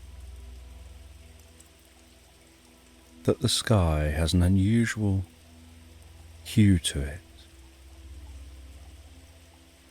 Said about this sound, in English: she's listening to the gentle pitter-patter of the raindrops on the window